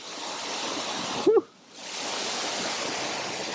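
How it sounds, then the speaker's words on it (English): Ouzoud waterfall in Morocco gives a steady broadband roar of falling water, briefly dipping as a person exhales a short breath, then the continuous rushing wash returns at full strength. "Come on to Ouzoud waterfall."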